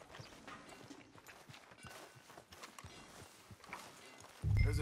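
Horse hooves clip-clop at a steady walking pace in the video game Red Dead Redemption 2, quiet and close, ending in a sudden louder low rumble.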